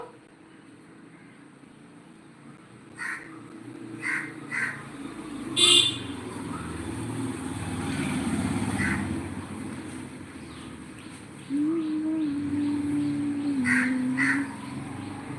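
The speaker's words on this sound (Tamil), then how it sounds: "காக்கா இருந்து கத்திட்டே இருக்கு" A crow caws in short separate bursts, several calls spread across the clip at moderate distance over a low outdoor background rumble.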